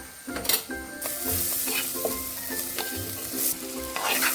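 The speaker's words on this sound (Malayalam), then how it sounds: "ഇതൊന്ന് മൂത്ത് വന്നതിന് ശേഷം നമ്മുടെ കൂർക്ക ഇതിലേക്ക് ഇട്ട് കൊടുക്കാം." Koorka, the Chinese potato, fries with Kashmiri chilli powder and pepper powder in a pan, giving a steady sizzle broken by repeated stirring scrapes and light clinks of a spoon against metal.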